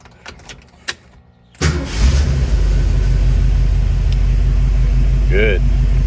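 A classic 1967–68 Ford Mustang cranks and fires up after a few clicks, its engine then settling into a loud, steady, rumbling idle close by, with a brief whirring sound near the end.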